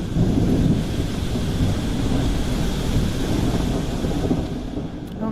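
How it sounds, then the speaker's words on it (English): Heavy rain roars steadily during a thunderstorm, a dense, loud wash of noise with low rumbling and wind-like gusts throughout, no voices over it. "Oh my gosh, the rain is extremely loud."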